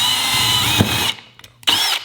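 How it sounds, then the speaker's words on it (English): A power drill whines steadily and loudly for about a second, bites into a piece of aluminum, pauses briefly, then spins up again for a short burst. "I'm just gonna drill into this piece of aluminum with this right here."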